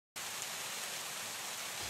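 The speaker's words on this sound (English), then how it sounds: "Some active water" Fast-moving water in Norway hisses as a dense, steady broadband rush, like rain or a churning stream. It starts abruptly after a brief silence, then holds constant and fairly quiet with no voices.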